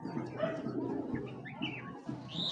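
An imported Chinese female racing pigeon coos softly at close range, low throaty murmurs repeating over faint background chirps.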